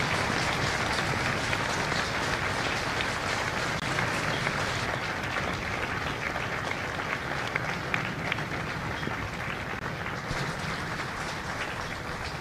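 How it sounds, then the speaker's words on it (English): Sustained, dense applause from a large audience honoring former Marines at a Marine Corps recruit graduation at MCRD San Diego, a steady wash of many hands clapping with no break for its whole length. "Ladies and gentlemen, a round of applause for their dedicated service to our Corps and country."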